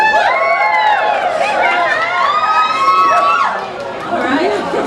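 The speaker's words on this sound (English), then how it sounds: "I like an appreciative crowd." Lolita fashion show crowd at an anime convention cheering and calling out together, a dense sustained roar of excited voices with high shouts and squeals rising over the chatter before easing off.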